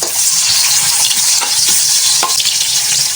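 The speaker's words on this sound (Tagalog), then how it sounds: "At igigisa ko lang ito ng mga ilang segundo lang." Ginger, onion and garlic sauté in hot oil for squid adobo with eggplant, a loud steady sizzle close by with occasional stirring scrapes over it, no voices.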